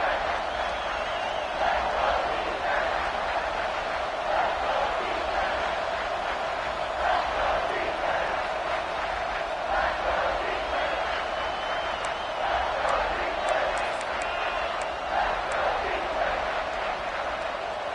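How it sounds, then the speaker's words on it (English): Stadium crowd at an American football game in overtime, roaring loudly and continuously as the home fans force a false start, a dense sustained wall of cheering and shouting with no pauses. "with this place rocking, the crowd forces a false start"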